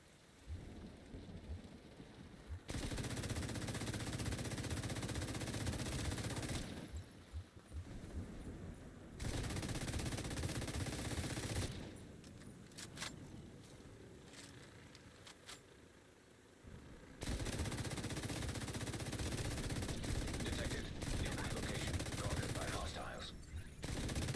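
Sustained machine gun fire in The Division 2, loud and dense, coming in several long bursts broken by short pauses.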